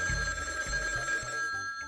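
An old-style telephone bell rings in steady repeated bursts, a clear close ring with no one speaking.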